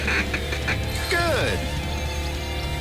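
A duck feed call plays in the Duck Dynasty hunting video game: a short run of raspy, chattering quacks, followed by a quick falling sweep of call notes, heard over a steady mechanical background hum.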